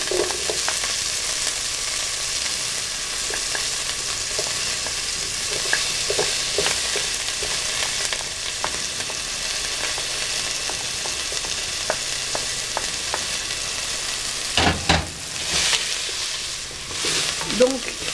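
Garlic cloves and onion frying in a small stew pot: a continuous dense sizzle, with occasional stirring scrapes and a few louder clatters of the pot and utensil near the end, close, with no voices.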